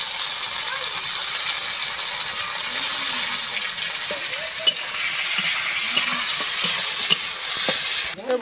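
Washed small fish hit a pan of frying onions with a loud, continuous sizzle and crackle that holds steady throughout, close up, with faint clinks and a brief clatter near the end.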